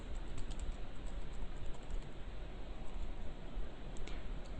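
Fast, steady typing on a computer keyboard while a first C program is entered, with dense, continuous key clicks and no talking.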